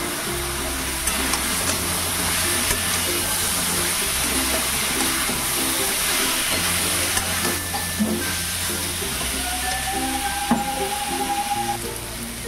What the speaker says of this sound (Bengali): এবার আমি এঁচড়গুলোকে দিয়ে মশলার সাথে ভালো করে একটু নাড়াচাড়া করে নেব